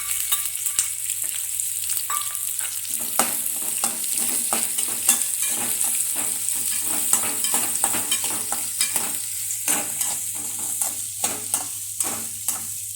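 Onions fried in a pan for a homemade poha (avalakki) dish, with a steady close sizzle and repeated scraping stirs and clicks of a spoon against the pan, no voices.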